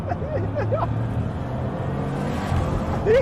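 Engine of a Bugatti Chiron Pur Sport, an 8-litre 16-cylinder quad-turbo unit, heard as a continuous rumbling drone with a few brief tonal chirps over it, and no talk.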